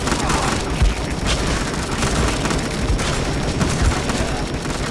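Loud, dense gunfire and explosive bursts in the zombie game Dead Ahead: Zombie Warfare, with machine gun fire running continuously through the scene and several heavier booms punching through.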